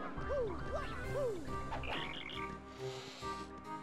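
Stylized cricket chirps in Paper Mario: The Thousand Year Door, rendered as bright, bouncy, repeated cartoonish calls that resemble croaking, over a layered game music backdrop.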